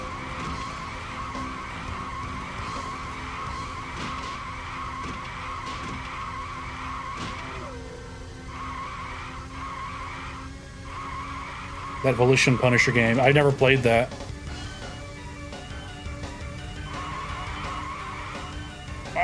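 Tires screech in a racing video game, a loud warbling squeal that bursts out for about two seconds midway over steady engine drone, with people chatting throughout.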